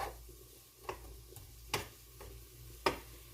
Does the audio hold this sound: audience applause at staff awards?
no